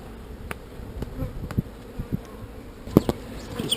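Honeybees swarm thickly over a hive cage holding their queen during an artificial swarm, a steady insect buzz with repeated faint taps and knocks, one louder thump near the end.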